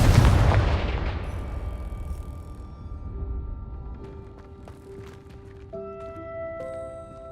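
A Confringo spell explosion in Hogwarts Legacy gameplay on PS4 sets off a loud, booming blast that decays into a long rumbling tail, followed by faint ringing tones and small debris-like ticks.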